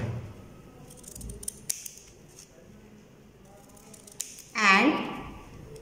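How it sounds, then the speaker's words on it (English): Scissors snip through folded chart paper, cutting out an arrow shape; several brief crisp snips, then a louder, longer cutting stroke near the end, heard close up in a quiet room. "fold it in this way and cut it in arrow shape"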